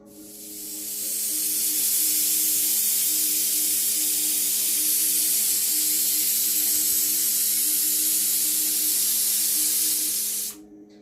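A pressure cooker on a gas stove set to medium, holding vegetarian jackfruit curry with peas, lets out a steady hiss of steam. The sound swells in over the first two seconds, holds for about eight seconds, then cuts off abruptly.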